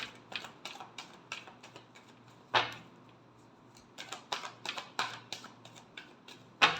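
Tarot cards are shuffled close up in quick bursts of riffling and tapping clicks, with irregular pauses and a sharper slap of the deck now and then.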